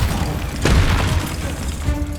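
A Bombarda spell explosion in Hogwarts Legacy, one loud booming blast with a dense rumbling body that decays into a noisy roar of battle sounds.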